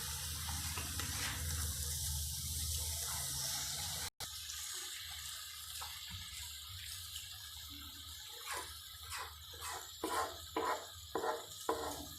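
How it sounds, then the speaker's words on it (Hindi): Water is poured into a cooking pot of chicken with cabbage and yogurt, a steady running pour first, then a break, then a series of short splashing gurgles. "गोश्त को गलाने के लिए थोड़ा सा पानी डाल लेंगे।"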